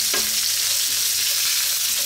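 Onions fry in a hot pan for pork liver bistek, a steady broadband sizzle that stays loud and even throughout, with a brief stir near the start and no voices.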